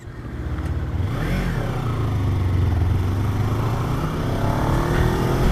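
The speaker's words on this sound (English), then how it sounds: "I can't believe I just fucking stalled my bike." A motorcycle engine idles loudly up close, rises in pitch as the rider tries to pull away in third gear, then labors and bogs down with a low rumbling drone.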